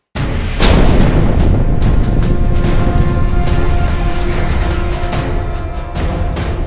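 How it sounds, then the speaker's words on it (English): An explosion sound effect added to a video starts with an abrupt loud burst, then becomes a sustained, rumbling roar with crackling debris that slowly fades over several seconds. "That is how you add explosions to a video."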